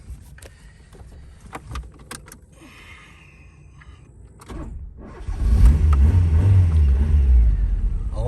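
A Tofaş car, one of the last of its line, sits quietly with faint clicks and handling noises, then its engine cranks and catches about two-thirds through, settling into a loud, low, rumbling idle close by.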